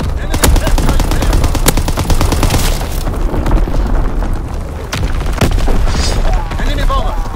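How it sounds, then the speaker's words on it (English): Enemy artillery and bomb explosions in the online multiplayer game Call of Duty: WWII, loud continuous battlefield din with heavy booms, rapid machine-gun fire and scattered gunshots, with voices shouting over the fighting. "Incoming enemy artillery! Get to cover! Enemy bomb incoming!"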